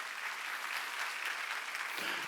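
Church congregation at a Sunday worship service in Incheon applauding together, a steady dense wash of many hands clapping without a break, fairly loud and close.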